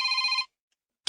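A cellphone rings with a bright electronic tone that holds for about half a second, then stops. After a short silence a second ring begins. The sound is loud and close.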